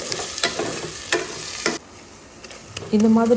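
Tomatoes sautéed in a pan for mutton biryani, a sizzle broken by several sharp stirring scrapes, then a brief quieter gap before a short spoken remark at the end.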